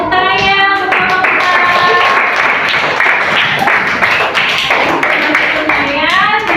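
Students in a classroom applaud group 4, loud continuous clapping filling the room, with voices and cheering mixed into the applause.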